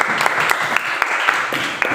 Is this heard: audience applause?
yes